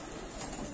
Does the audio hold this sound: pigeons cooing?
yes